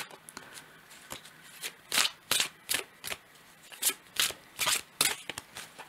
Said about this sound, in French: Je vais tirer une autre carte, on va voir.